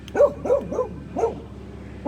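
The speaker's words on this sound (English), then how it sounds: "He's barking at our rummage sale people coming up" A dog barks in a quick run of three or four yips, pauses, then barks twice more, fairly close and with no one talking.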